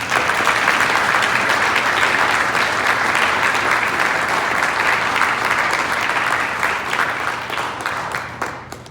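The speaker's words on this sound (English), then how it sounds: "Why don't we give them a round of applause?" A crowd at a county spelling bee breaks into sustained, loud applause, many hands clapping steadily for several seconds before it begins to thin out and fade near the end.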